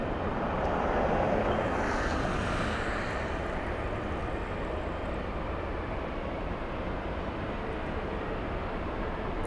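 Philippine Airlines airliner taxiing at LAX gives a steady, broad jet-engine rumble and hiss, loudest early and then holding even, with no voices.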